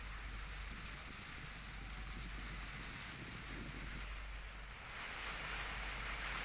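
Unseasonal rain falling in the countryside, a faint, steady hiss of rainfall with no breaks and no voices.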